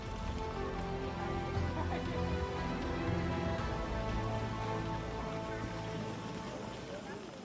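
Steady storm-season rain falling on a surface in Hoi An, Vietnam, a continuous dense patter with a low background rumble throughout.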